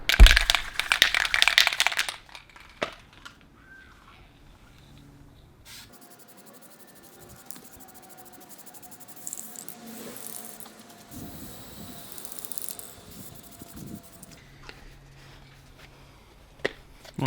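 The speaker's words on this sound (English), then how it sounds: "We'll just do another quick coat, try and get in paint at a different angle." Spray paint lays a second coat on engine parts: a close, steady aerosol hiss opens the clip, then softer intermittent spraying and faint handling noises follow amid long quiet stretches.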